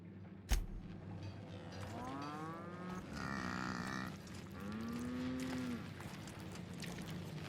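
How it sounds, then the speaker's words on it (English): Cows moo in The Outer Worlds aboard a spaceship, with two or three drawn-out low calls over a steady background hum after a brief sharp knock at the start. "Why the hell I got cows in here?"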